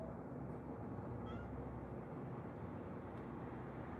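A house cat meows once or twice, faint and brief against a steady low rumble of background noise.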